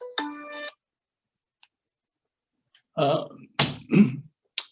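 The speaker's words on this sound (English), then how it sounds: "that's my phone." A phone rings briefly with a short electronic tone near the start, followed by silence and then someone speaking during a Zoom meeting.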